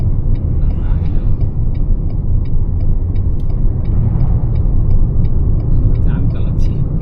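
A Toyota Harrier driving on the N2 highway: steady, loud low engine and road rumble from inside the car, with a faint regular ticking pattern and occasional voices underneath.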